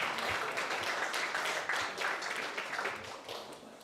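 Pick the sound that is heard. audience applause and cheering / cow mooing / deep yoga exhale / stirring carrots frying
audience applause and cheering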